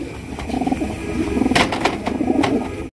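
A pair of red Lahori pigeons, a breeding pair, coo in soft repeated low phrases close by, with a few brief flutters or taps between the calls.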